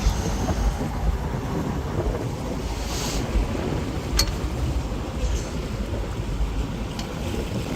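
Steady low rumble of a boat travelling along a canal in the Sundarbans, with wind buffeting and water wash, continuous and fairly loud, no talking.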